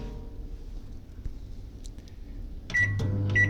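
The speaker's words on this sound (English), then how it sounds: "turn on the microwave for 2 minutes as they state on the box." A microwave oven heating a pasta box runs with a low steady hum, and a couple of brief clicks and beeps follow near the end, with no voices.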